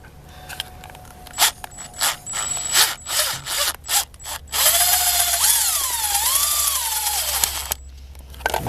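A power drill drives a screw into the door panel of a 2013 GMC Sierra, with several short bursts of whirring followed by a longer, steady run of higher-pitched driving that rises and falls in pitch, all close and fairly loud with no talking.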